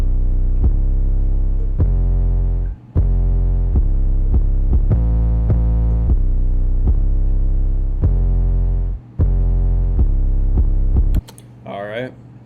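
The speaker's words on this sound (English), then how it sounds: "it's a pretty aggressive, distorted 808, and this is what it sounds like by itself" Aggressive distorted 808 bass playing alone on root notes in an FL Studio hip-hop beat, loud booming sustained low notes in a steady pattern with short gaps, ending abruptly before a brief voice.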